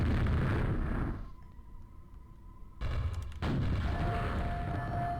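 Rocket explosions in a Quake-style first-person shooter, heavy booming blasts filling the start and end with a quieter gap between, loud and close with no talk.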